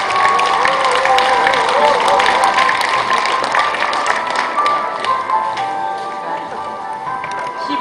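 An audience at an alumni association general meeting applauds in a dense, steady wash of clapping that fades slightly toward the end, with voices mixed in.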